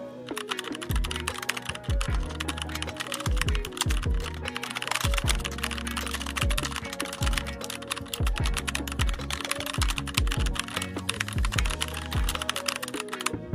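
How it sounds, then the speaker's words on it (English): Code for a Roblox scripting project is typed on a computer keyboard, producing a fast, steady clatter of keystrokes that runs continuously and fairly close, with a low background tone beneath it. "I'm just going to type the code and then I'll explain it."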